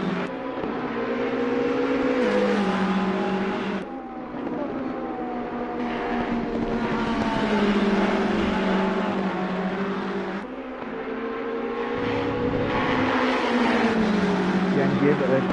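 Ferrari and other race cars roar at Spa-Francorchamps during a three-hour endurance race, engines droning loud and continuous with rising and falling pitch as they chase through corners, a commentator talking over the din.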